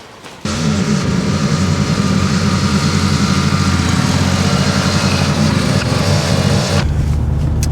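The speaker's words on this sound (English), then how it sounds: "I'm gonna have to now spin my ute around to jumpstart the damn auger" A ute engine starts abruptly and runs at a steady, loud idle close by for several seconds, then cuts back sharply near the end, with no talking.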